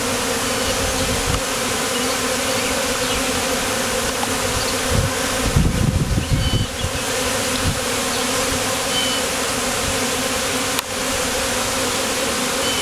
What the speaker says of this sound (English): They're all going into the new hive.